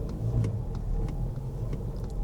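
A rental fleet car's engine runs rough and stumbles under throttle, a low uneven rumble with slight surges, heard close and alone without talk, suspected dirty mass airflow sensor.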